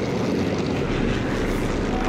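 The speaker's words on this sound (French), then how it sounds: "Il y a l'avion." Propeller airplane droning overhead in the World War II shooter Sniper Elite 4, a loud, steady engine roar that fills the whole stretch without fading.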